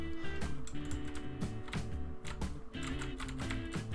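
Computer keyboard keys tapped rapidly while playing the train-building game Transport Fever, a dense run of close clicks under steady background game music.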